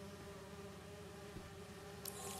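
Bees buzz steadily in Marvel's Spider-Man 2, a faint continuous insect drone that carries through the whole stretch with a brief brighter rustle near the end.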